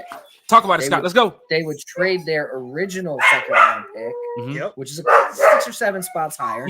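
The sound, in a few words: dog barking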